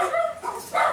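Dogs barking: a couple of close, loud yapping barks in quick succession, short and sharp with a brief gap between them.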